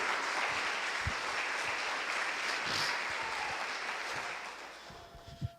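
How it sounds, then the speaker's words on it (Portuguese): Continuous crowd applause that holds steady and then tapers off toward the end, with a few sharper individual claps standing out. "Aplauda por favor"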